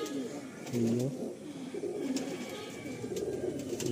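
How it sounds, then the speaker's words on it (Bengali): A pair of Kaldam pigeons coo in a loft, a low rolling warble rising and falling several times, loudest near the start, over a steady background hum. "কালদম পায়রা হচ্ছে আমাদের সকলের প্রিয় পায়রা।"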